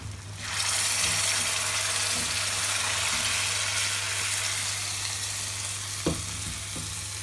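Masala hitting cooking goat trotters (paya) in their own rendered ghee gives a loud, steady sizzle that runs throughout, with a brief clatter of stirring near the end.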